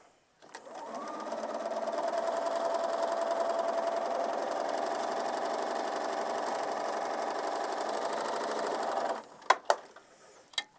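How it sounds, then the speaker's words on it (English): A sewing machine stitches a scant quarter-inch quilt seam in one steady, close whirring run of about eight seconds, ending in a few quick clicks as it stops. "we put it into our machine and we sew a scant 1/4 inch seam"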